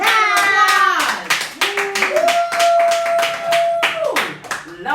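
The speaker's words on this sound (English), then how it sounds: "Everybody give Barbara a round" An audience at a live show with a Chicago radio and TV personality gives a round of applause. Sharp, rhythmic claps sound close, mixed with loud, tonal voices that are calling out or singing over the clapping.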